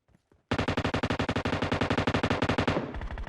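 Rapid automatic gunfire in PUBG Mobile on the Miramar desert map, a loud close burst of evenly spaced shots lasting over two seconds after a short quiet lead-in.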